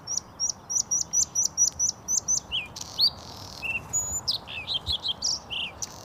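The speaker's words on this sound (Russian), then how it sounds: "Так поет варакушка" A bluethroat sings close by, starting with a quick run of identical repeated chirps, then shifting into varied whistles, buzzes and trills.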